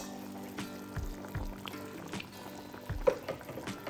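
Parai fish kulambu, a fish curry, boiling in a pot: soft, irregular bubbling and popping with a few louder plops, close by and without talk.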